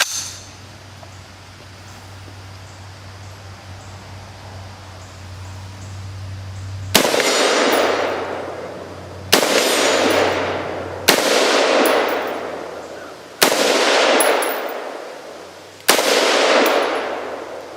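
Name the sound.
M4-style semi-automatic rifle gunshots at steel plates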